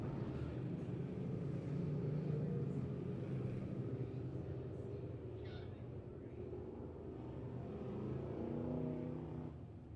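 Sheet metal race cars roar around the track at Lebanon Midway, a continuous droning engine wash heard from a distance, with an announcer's voice faintly over it.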